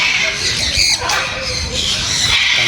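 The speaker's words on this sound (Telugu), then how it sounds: "అరుపులు, పక్షులు, కిలకిలలు చూడండి." Birds call and chirp beside a river in Thanjavur, a busy mix of sharp squawks and bright twittering close by, with soft voices faintly underneath.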